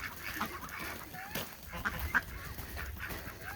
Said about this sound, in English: Wait for the geese to catch up.